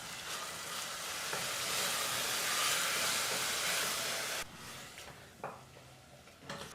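Ground masala paste for pudina basmati rice stirs and heats in a pan over fried onions, giving a steady loud sizzle that drops partway through, with a few scraping stirs afterward and no talk.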